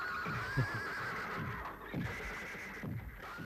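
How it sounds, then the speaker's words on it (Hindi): A horse whinnies in a stable where several horses are kept, the neigh heard at moderate distance over a steady background with a few soft thumps and shuffles. "ये क्या घोड़े रखे हुए हैं?"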